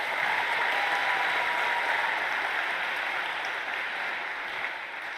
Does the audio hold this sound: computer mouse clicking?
no